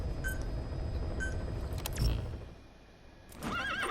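D-Horse, the horse from the Metal Gear Solid V video game, lets out a loud, close whinny over steady hoof clip-clop and game ambience, with a quieter pause before the noise resumes.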